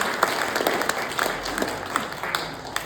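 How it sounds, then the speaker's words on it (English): Scattered audience applause at a community action group's first meeting, a modest, fairly quiet patter of clapping from a small crowd in a room. "a round of applause"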